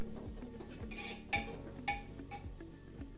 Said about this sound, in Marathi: कांदा परतवत टाकूया भातासाठी.